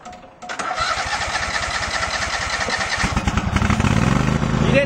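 A Massey lawn tractor engine cranks and catches after a brief pause, then settles into a loud, close, chugging idle with rapid regular firing pulses that build slightly toward the end.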